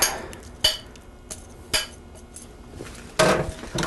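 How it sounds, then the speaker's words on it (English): A utensil stirs egg mixture into a pot of white chocolate budino, giving a handful of sharp metallic clinks and scrapes spaced irregularly against a quiet background. "slowly work my egg mixture in here so that I don't end up with scrambled eggs."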